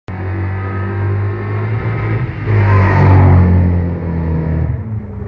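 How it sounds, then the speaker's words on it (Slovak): Car engine humming steadily up close, then revving louder midway before easing back to a strong hum, with no talk. "takto hučí motor"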